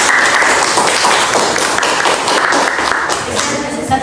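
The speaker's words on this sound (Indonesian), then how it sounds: "Tepuk tangan untuk kelompok 3." A classroom of students claps for a presenting group, a loud, dense burst of applause filling the whole moment without pause.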